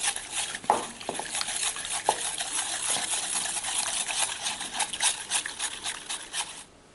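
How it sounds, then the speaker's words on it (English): Paint mixed with thinners being stirred with a paintbrush in a container, a steady close scraping and swishing with a few sharper knocks against the sides, running continuously with no talk. "you need to give it a stir."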